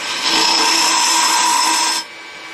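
A hand scraper shaves wood while an acorn is hollowed out, giving a close, steady rasping hiss that lasts about two seconds before stopping abruptly.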